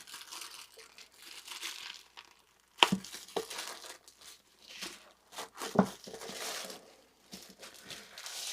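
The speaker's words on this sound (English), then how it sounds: "It's in a plastic bag." A plastic bag wrapping a USB-C docking station crinkles and rustles nearby in uneven handling bursts, with a few sharper crackles standing out from the softer rustling.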